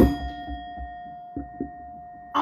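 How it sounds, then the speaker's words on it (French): Bell rung by hand, a bright metallic ding with a long sustained ringing tone, a few soft knocks partway through, and another strike at the end. "Il prend la cloche."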